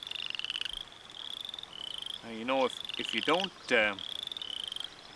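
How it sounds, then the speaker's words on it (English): Chorus frogs call from a pond in repeated rising trills under a steady insect chorus, close and clear, while someone speaks briefly partway through. "And I'm going to leave that chorus frog in the pond here."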